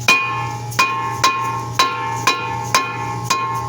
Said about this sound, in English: It's frozen on there, so I'm going to try to hit it with a hammer a few times.